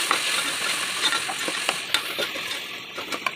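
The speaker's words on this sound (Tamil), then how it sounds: "தக்காளி வதங்குறதுக்காக உப்பு மஞ்சத்தூள் சேர்த்து நல்லா வதக்கிக்கலாம்" Tomatoes sautéed with salt and turmeric in a pan, a continuous soft sizzle broken by light scraping stirs and small clicks of a spoon, moderately close with no talking.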